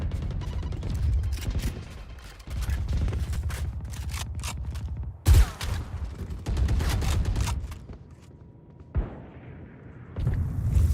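Rapid bursts of automatic gunfire and single shots crack through a Valorant tournament round, overlapping weapon and ability sounds with brief pauses between volleys.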